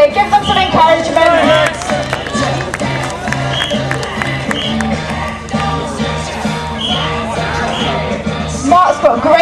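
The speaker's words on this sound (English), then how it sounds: "Give them a cheer, give them some encouragement." A crowd at a St Patrick's strongman challenge deadlift event cheers and claps steadily, a busy mix of shouts and applause under a commentator's continuous talk.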